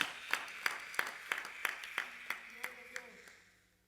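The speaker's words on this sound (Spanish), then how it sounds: "denle ese aplauso a la fidelidad de Dios" Churchgoers at a worship service clap in a steady rhythm, about a dozen crisp, evenly spaced claps that gradually soften and fade out, heard fairly faintly in the room.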